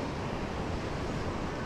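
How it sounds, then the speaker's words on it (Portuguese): Strong wind roars across the microphone in a steady, broadband rush, blended with faint surf in the background, at Boa Viagem beach in Recife, Brazil. "tá ventando demais"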